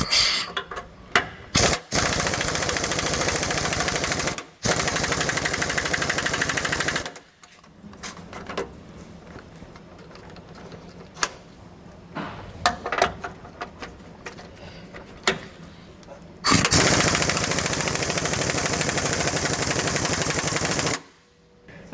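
An impact gun drives a 1 5/16 inch socket to remove U-bolt nuts while a rear anti-sway bar is fitted to a 2022 Tiffin Open Road Allegro motorhome, with loud rattling bursts separated by pauses and small clanks.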